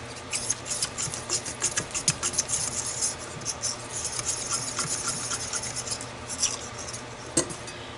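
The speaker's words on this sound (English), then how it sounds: "I peel it anyway just in case there's anything hiding underneath the skin." A potato is peeled by hand for coal region potato candy, producing faint, irregular scraping and tapping strokes that come close together over several seconds with no voice.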